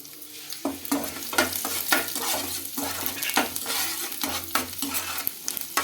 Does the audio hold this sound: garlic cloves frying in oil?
yes